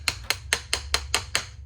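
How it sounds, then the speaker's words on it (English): A hammer strikes a pin punch against an old cylindrical lever seven times in a steady, even rhythm. Each blow is a sharp, close metallic crack, with a low hum underneath. "grab your little small thing, grab you a hammer"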